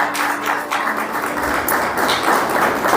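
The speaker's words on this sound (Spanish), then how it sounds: "Dale un aplauso al Señor" A church congregation applauds, producing a dense, continuous wash of clapping from many hands in a reverberant hall, loud and sustained throughout.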